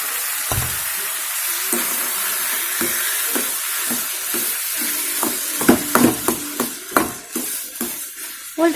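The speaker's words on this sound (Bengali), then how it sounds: "হালকা ভাজা ভাজা করে নিয়েছি এবার এর মধ্যে আমি ওলটা দিয়ে দেব" Chopped onion and elephant foot yam fry in a pan, giving a steady close sizzle with scraping stirs that grow busier and louder toward the end.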